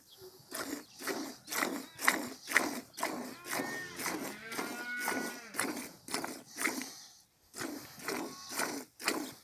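A village cow is hand-milked into a bucket, the milk squirting in a steady, rhythmic stream of short bursts with a brief pause and a faint lowing-like tone midway.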